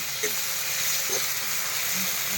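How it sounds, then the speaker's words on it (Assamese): Roselle (sour) leaves frying in oil in a pan: a steady sizzle, a continuous hissing fry with faint clinks, no talking. "টেঙা মাৰা পাতটো ধুনীয়াকৈ ভাজি কৰি লওঁ আগতে"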